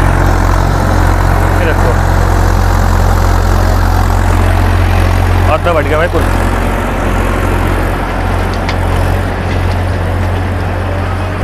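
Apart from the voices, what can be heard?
Massey Ferguson 7250 46hp tractor engine driving 8ft rotavator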